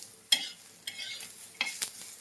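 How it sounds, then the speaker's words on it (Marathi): Garlic roasting with onion in a pan, faint sizzling broken by a few sharp stirring scrapes of a spoon against the pan. "लसूण पण भाजून घ्यायचं आहे आपल्याला कांद्याबरोबर"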